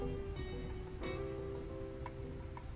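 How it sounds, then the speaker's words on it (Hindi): Rain falls steadily outdoors with an even, soft patter. It is fairly faint and continues throughout with no voices. "तुम यहाँ बारिश में क्यों भीग रही हो?"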